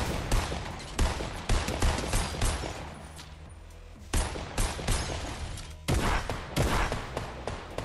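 Automatic turret fire in Fortnite Battle Royale, loud rapid bursts of gunfire in several clusters separated by brief lulls, with no talking.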